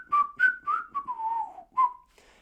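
Someone whistles a short melodic tune from The Jungle Book up close: a few bright detached notes, then a long note sliding downward and one final note.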